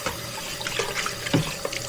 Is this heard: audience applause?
no